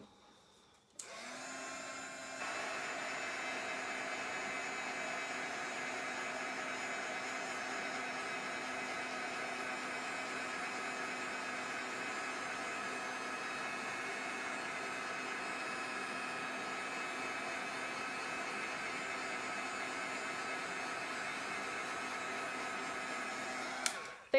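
A handheld hair dryer drying a mixed media craft tag gives a loud, steady whine with a constant tone. It switches on after a brief click, runs evenly for about twenty seconds and cuts off at the end, with no talking.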